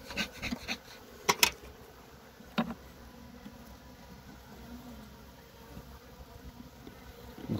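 Bees buzz around a beehive in a season of poor honey yield, a faint steady hum with a few sharp close passes early on and no talk.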